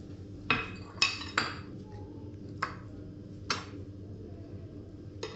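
Radish paratha ingredients, onion and green coriander among them, being mixed in a bowl, with several sharp clinks of a utensil against the dish at irregular intervals over a low background hum, no talk.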